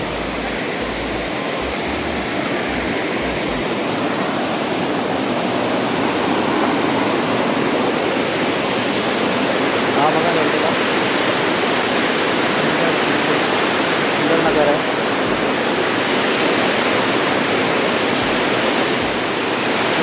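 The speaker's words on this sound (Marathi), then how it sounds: "पाण्याचा आवाज खूप मोठा आहे पण सुंदरचा धबधबा आहे" Dhodhani waterfall near Panvel, a loud, close, continuous roar of crashing water that holds steady and unbroken throughout.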